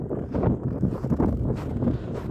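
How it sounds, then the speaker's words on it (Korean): Strong wind blows outdoors over a frozen reservoir, buffeting the microphone in loud, uneven gusts with no speech. "바람이 많이 불어서 손이 막 흔들립니다"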